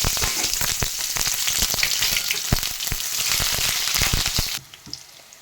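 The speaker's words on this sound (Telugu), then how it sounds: "ఆనియన్ బాగా వేగిందండి." Chopped onions fry in hot oil in a heated pan, a steady dense sizzle with crackling pops throughout that drops off abruptly near the end, no voices.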